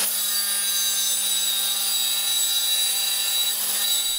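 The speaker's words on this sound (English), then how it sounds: "I will cut the redesigned plates for my CNC machine using Acetal" An old plywood-plated CNC machine cuts acetal plates with a continuous loud, steady high-pitched whine and machining noise. The sound stays close and unbroken with no pauses.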